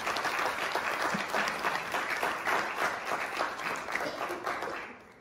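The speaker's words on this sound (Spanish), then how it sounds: "adelantamos para ellos y para ella su la bienvenida con este aplauso" Sustained applause from a forum audience welcoming speakers at a memorial event on human rights crimes, a thick even wash of clapping from many people that holds steady and tapers slightly at the very end.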